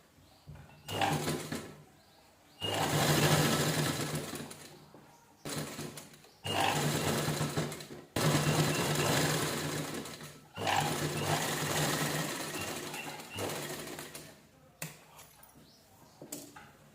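Sewing machine stitching the turned-in neckline of an unlined princess blouse with canvas interfacing, running in several loud bursts of steady whirring separated by short pauses.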